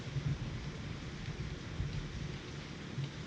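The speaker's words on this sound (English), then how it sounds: "It's raining hard." A heavy downpour drums steadily and densely close by, with a low rumble underneath throughout and no voices.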